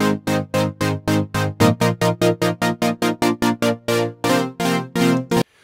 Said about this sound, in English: So what you're hearing there is the chords which I've already played